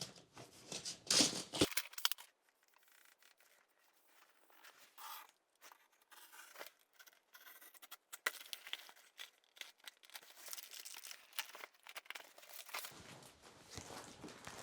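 Ditra PS peel-and-stick underlayment being cut, heard as close, quiet scraping and crinkling sounds with intermittent handling noise and a few louder rustles.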